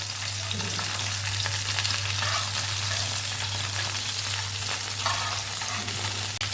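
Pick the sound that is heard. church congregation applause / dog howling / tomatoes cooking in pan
tomatoes cooking in pan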